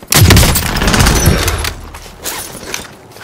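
Heavy gunfire in Call of Duty: Modern Warfare, a loud dense burst of shots in the first second and a half that thins into scattered, quieter reports and rumble.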